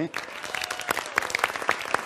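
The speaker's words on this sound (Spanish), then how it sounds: "Un aplauso, por favor" A conference audience breaks into applause during a motivational lecture, brief and fairly close, with a voice talking over the clapping throughout.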